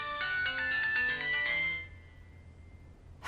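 A telephone rings in the video game American Arcadia, a bright electronic ringtone pattern repeating for about two seconds, then fading out to quiet room tone before a brief burst at the end.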